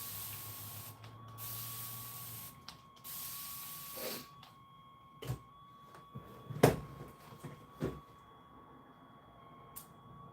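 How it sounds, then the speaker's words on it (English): A spray bottle misting during a face sculpting session gives several short, soft hissing bursts spaced a second or two apart over a quiet room hum. "More spray."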